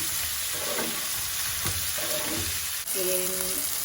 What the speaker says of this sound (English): Fry these until they are nice and golden